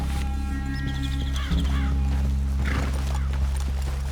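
Horses in the western video game Red Dead Redemption 2, clip-clopping hooves and a brief whinny close by, set against a steady low ambient drone with a few bird calls.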